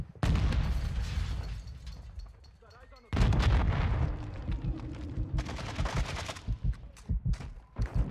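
Gunfire in the video game Modern Warfare 2, with heavy, booming shots and rapid bursts in loud dense volleys, a brief lull, then more sustained firing and scattered single shots, with a voice talking over it.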